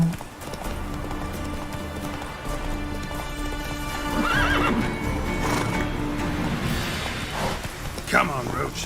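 A horse gallops in the Witcher 3 video game, its hooves clip-clopping steadily and close with a whinny along the way, over game ambience, while a voice speaks briefly.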